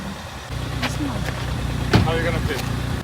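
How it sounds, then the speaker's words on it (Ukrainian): A newly bought car in America idling nearby, a steady low engine hum that holds throughout, with brief voices and small knocks over it. "Вот наша бибика."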